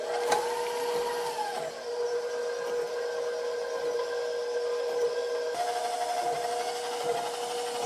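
An electric mixer blends sugar and vegetable oil for carrot cake batter, giving a steady mid-pitched whir with slight shifts in tone and nobody talking.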